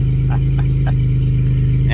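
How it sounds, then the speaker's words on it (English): A car with its catalytic converter removed and a flex pipe fitted in its place idles loud and close, a heavy droning exhaust rumble with a few faint knocks heard over it. "As you can hear, it's loud. I have removed the Cadillac converter."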